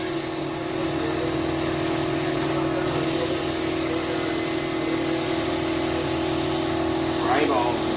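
A spray gun laying primer on a 1992 Honda Prelude SiR VTEC under restoration, a continuous close hiss held steadily throughout with a constant low mechanical hum beneath and a brief faint voice near the end.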